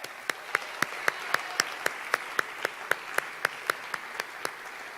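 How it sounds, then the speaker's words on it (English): Slow, evenly spaced claps, about twenty in five seconds, at a United States Naval Academy awards ceremony honoring a midshipman's research, sounding close and sparse rather than like a full crowd. "Round of applause for Midshipman Peralta."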